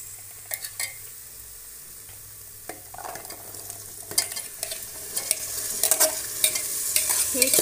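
Soaked chickpeas tipped into sizzling sautéed masala in a pressure cooker pan, with steady frying hiss and scattered scraping stirs and clinks growing louder toward the end, no voices.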